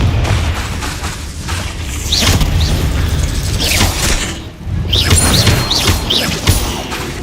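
A Confringo fire-blast spell in Hogwarts Legacy combat: repeated booming bursts and crackling mechanical clanks, with sizzling whooshes between them and a short lull midway.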